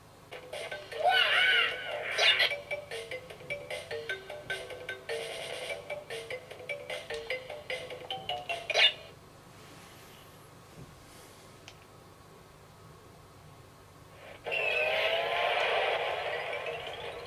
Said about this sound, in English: And this will even play something like Crash Bandicoot.